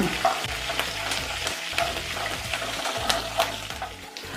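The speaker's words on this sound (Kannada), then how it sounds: "ಇದನ್ನು ಕೂಡ ಅಷ್ಟೇ ಚೆನ್ನಾಗಿ ಫ್ರೈ ಮಾಡ್ಕೊಳ್ಳೋಣ." Curry leaves crackle and sizzle in hot oil in a pan for vermicelli upma, with a steady close frying hiss and light rhythmic scraping strokes of a spoon against the pan.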